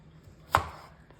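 A knife cuts once through cauliflower on a board, a single crisp close chop with a short thud, then quiet.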